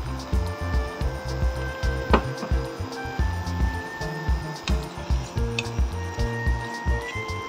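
Shredded cabbage frying in a pan, with a steady close sizzle under repeated stirring and scraping against the pan.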